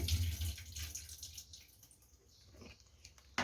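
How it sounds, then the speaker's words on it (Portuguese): Water poured out of a pot into a sink, a short splashing and trickling pour with drips, fairly quiet and close, with no talking. "aqui, ó, eu tiro essa água, jogo fora."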